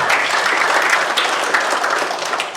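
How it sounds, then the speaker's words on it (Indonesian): A gathered audience at a military briefing in West Papua breaks into loud, close applause, a thick continuous patter of many hands clapping throughout. "Tepuk tangan lagi."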